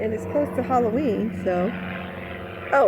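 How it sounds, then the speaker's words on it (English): An airplane near an airport drones faintly overhead as a steady low hum beneath a person talking close by outdoors in a backyard. "so if you hear airplanes in the background, that's what it is."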